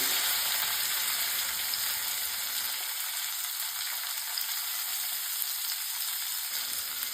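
Chopped curry leaves, onion and ginger sautéing in hot oil with mustard seeds in a pan make a constant, even frying hiss, close and moderately loud, with no talking.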